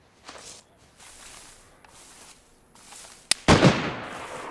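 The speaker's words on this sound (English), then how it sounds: "Are they shooting at you?" Gunshots in the DayZ video game, a few sharp distant cracks and a loud close shot near the end amid quiet footsteps and ambient noise.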